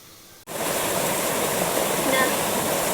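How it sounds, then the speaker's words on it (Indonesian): A waterfall roars close by as a dense, steady rush of falling water. It starts abruptly and then holds at a constant loud level with no pauses. "menikmati air terjun yang ada di belakang Ibu sana"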